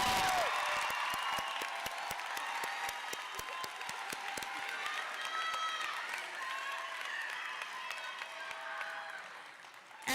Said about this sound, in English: Let's give these young women a round of applause.